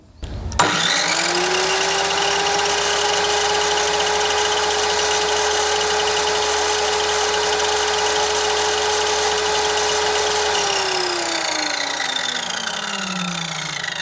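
A Kyuho MK7 7-inch circular saw spins up and runs without load, a loud, steady high whine held for about ten seconds with no talk before the motor note drops as the blade starts winding down.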